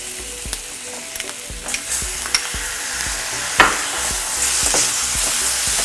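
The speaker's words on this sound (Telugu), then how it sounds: "నెక్స్ట్ ఇప్పుడు రొయ్యలు వేస్తున్నాను." Prawns go into frying okra with green chillies in a pan, a loud continuous sizzle broken by repeated sharp clacks and scrapes of a spatula stirring, one bigger clatter midway, and no one speaking.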